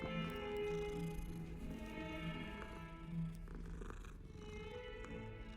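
A cat purrs in the video game Hogwarts Legacy, a continuous low rumbling purr layered over a dense, steady game ambience with sustained musical tones.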